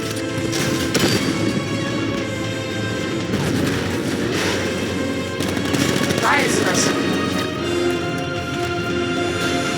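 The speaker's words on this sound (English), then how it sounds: "60mm cannon operational." Tank cannon blasts and gunfire in the Batman Arkham Knight video game, with repeated heavy booms and crackling shots layered over game music and effects, plus dialogue.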